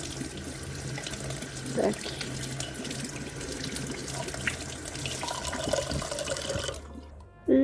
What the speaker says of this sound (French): Ensuite, je passe la patate sous l'eau.